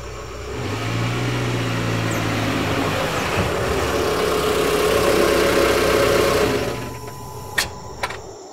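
A car drives up and parks right in front of a building near a farm, its mid-pitched engine running steadily and fairly close. The engine cuts out near the end, followed by a couple of sharp clicks or door sounds.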